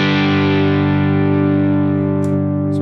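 A sustained distorted electric guitar chord rings out through an amp modeled in an HTS rig with its bright switch on, loud and steady with a slow decay and a couple of faint clicks near the end.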